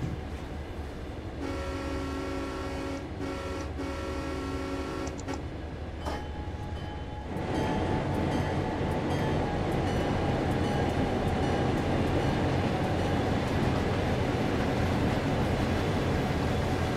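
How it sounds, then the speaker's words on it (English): A long freight train rolling past in the Train Sim video game on the Clinchfield Railroad route, a steady loud rumble of wagons and clanking with a sustained horn blast early on, no talking. "Let's just watch this entire train go past us"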